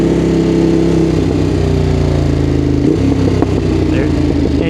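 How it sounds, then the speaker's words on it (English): Ducati Monster 821 engine running loud and close throughout, its exhaust note shifting pitch midway as the bike decelerates through a quickshifter downshift, with steady rumbling burble. "burbles usually in first or second gear when you de-accelerate and use your Quickshifter"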